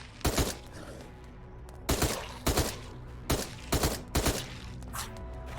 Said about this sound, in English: So for this, I do have a submachine gun, so we're going to clear these guys up.